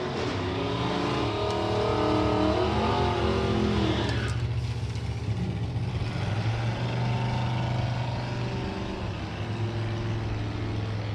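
Chevrolet drag racing cars at Santa Pod, including a modified Chevy and a Camaro, roar continuously with engines revving and rising in pitch before settling into a loud, steady drone.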